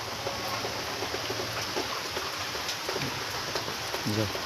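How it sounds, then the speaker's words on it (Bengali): Rain falls in a steady, even hiss through the whole stretch, with a voice talking faintly underneath. "থামছেই না, কাল সারা রাত বৃষ্টি হচ্ছে।"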